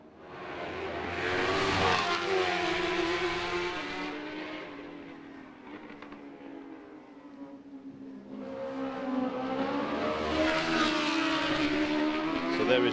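Racing motorcycles roar past on the track at the Macau Grand Prix warm-up, loud engine howls swelling in at the start and again near the end, with a quieter stretch of fading engine noise in between.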